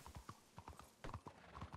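A horse's hooves clip-clopping in a ranch roleplay game, a brief uneven walk of crisp hoofbeats up close, with faint background sound and no speech.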